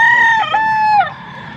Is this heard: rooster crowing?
yes